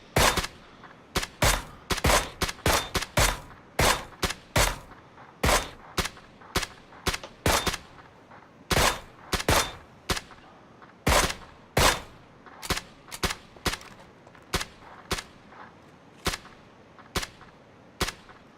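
Gunfire in the battle royale game PUBG, a long run of sharp, loud shots in quick bursts and single cracks with short gaps, close and continuous for the whole stretch with no talking over it.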